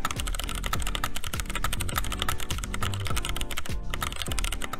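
Fast, steady typing on a stock Keychron K6 mechanical keyboard with Gateron Brown switches, a dense run of close, crisp keystrokes with the occasional heavier thock of larger keys.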